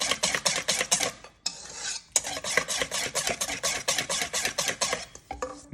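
A utensil scrapes and stirs banana bread batter in a bowl, in fast rhythmic strokes close up, with a brief pause midway and no talking.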